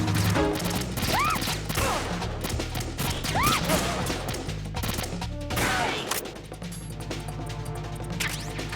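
Gunfire in Metal Gear Solid 2: Sons of Liberty, with a PSG-1 sniper rifle in play: loud, dense, continuous shots and crashing impacts fill the whole stretch with hardly a pause.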